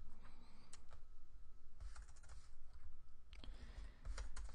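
Bursts of computer keyboard typing, close and clear, with quick irregular clicks in two or three runs separated by short pauses and no voices.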